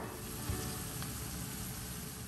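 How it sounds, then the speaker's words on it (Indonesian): Onion, shallot, garlic and bay leaf sautéing in a pan for a ground-beef steak sauce, giving a steady, close sizzle with faint stirring scrapes throughout. "Kita tumis sampai harum ya"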